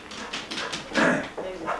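A pet dog whimpers in a short run of high, nasal whines that rise and fall, close and fairly loud, with people talking in the room.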